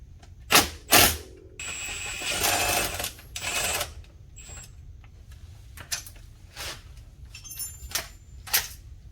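Metal wrench work on a brake line bolt of a 2012-or-later Can-Am Gen 2, heard as scattered clicks, scrapes and short ratcheting bursts with no speech.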